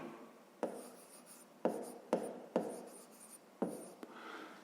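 Pen strokes of handwriting on paper while working a fifth-grade math exercise, a series of close, soft scratchy bursts with short pauses between them, no voice.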